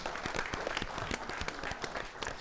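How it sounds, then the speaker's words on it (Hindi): An audience at a women farmers' award grand finale claps for a winner, quiet but dense applause with distinct individual claps, heard alone. "जोरदार तालियां इरव्वा जी के लिए।"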